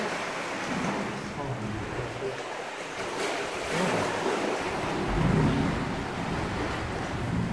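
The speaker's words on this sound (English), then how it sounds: "And these are just the sounds of the tiny waves." Small waves washing into a sea cave, a steady wash of surf and wind noise with a low surge building near the middle, heard close and fairly loud with people talking over it.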